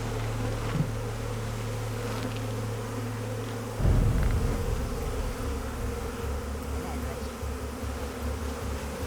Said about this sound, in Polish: Jakie to uczucie, kojot? To dużo pszczół!